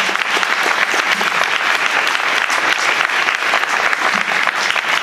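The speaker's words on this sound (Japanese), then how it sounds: "今一度拍手でお送りください。" Concert audience at a bayside live show applauding the performers, a dense, steady wash of loud clapping that fills the space evenly from start to finish.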